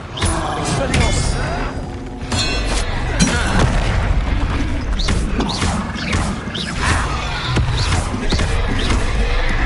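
An Expelliarmus spell cast in the PS5 game Hogwarts Legacy lands as loud booming magical blasts with roaring, crackling bursts, dense and continuous over game sound effects.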